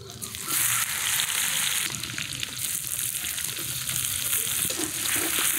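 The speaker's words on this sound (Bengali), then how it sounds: "পেঁয়াজ কুচি করে নিলাম, কড়াইয়ের গরম তেলে পেঁয়াজ কুচিগুলো দেব।" Chopped onions hit hot oil in a wok and fry with a loud, steady sizzle, broken by scraping stir movements throughout.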